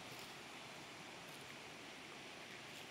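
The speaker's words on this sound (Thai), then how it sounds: "เสียงน้ำตกนี่ไหล" A forest waterfall flows on a mountain trail, heard as a constant broad hiss of falling water, fairly faint and even throughout with no talking.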